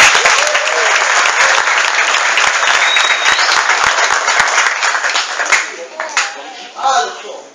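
Enthusiastic audience applause at a martial arts academy graduation ceremony, a dense burst of clapping that holds steady for several seconds, then thins out to scattered claps near the end.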